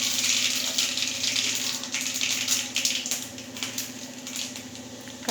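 Mustard seeds and urad dal sizzle in hot oil in a pan, making a loud continuous hiss with crackly popping bursts close by and no voices.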